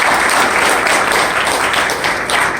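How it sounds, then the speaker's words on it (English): Loud, steady applause from an audience at a Love Little Rock Day event, a dense wash of clapping filling the whole stretch without a break. "Let's give Aristotle a big round of applause"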